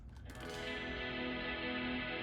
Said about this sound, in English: particle verb is basically the way that we make a pad on our guitar